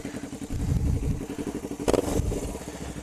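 A motorcycle engine idles steadily close by with a low rumble, and a brief louder burst of clatter comes near the middle of the run.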